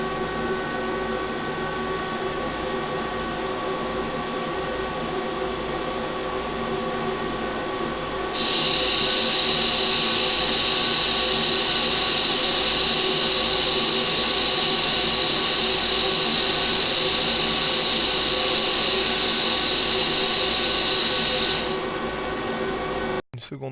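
Laser welding machine tracing a pattern: a loud, constant, steady machine hum with a bright, piercing high whine that rises midway and holds for about thirteen seconds before cutting off.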